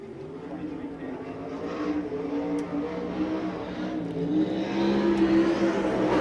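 A USAC National Sprint Car with an Ott engine and Maxim chassis races at Rossburg, Ohio, its engine a sustained, droning roar that grows louder and more insistent toward the end.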